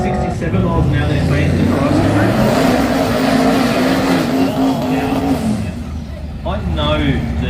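A drag racing car at the Garrett Brisbane Jamboree does a burnout, a loud sustained engine roar with tire noise that holds steady for several seconds, with a commentator talking over it.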